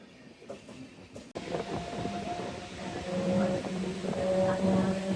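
Diva to Vasai MEMU local train running, a steady rumbling roar of the moving train that swells after a sharp jolt, with a faint tonal whine at times.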